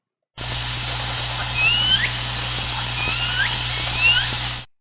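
L-pod orca calls, chirpy and whistled, rise and fall in short sweeps over a steady low hum, several calls spread across the recording, birdlike in tone.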